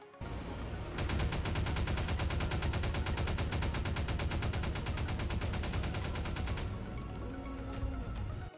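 Raptor Assault Turret in ARK, loaded with 12.5mm rounds, letting off a long, fast, steady burst of automatic fire at close range, about six seconds of evenly spaced loud shots before it stops and a low hum lingers.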